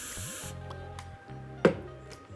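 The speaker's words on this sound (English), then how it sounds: "I'm literally gonna just spray on it" Liquid spritzed from a spray bottle onto paper during hair crimping prep, heard as a brief hissy burst near the mic, with faint handling noise around it.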